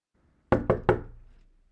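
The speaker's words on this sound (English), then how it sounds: "Oh, here's knocking indeed." Three sharp knocks strike the castle gate in quick succession, loud and close, each leaving a short hollow ring that fades after the last.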